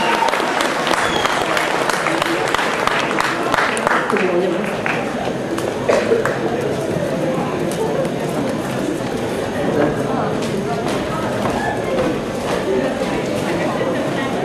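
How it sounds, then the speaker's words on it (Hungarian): Audience applause at a cosplay award ceremony on stage, brisk clapping that starts strong then thins out, with cheering and a voice talking over the crowd noise. "Nagy tapsot!"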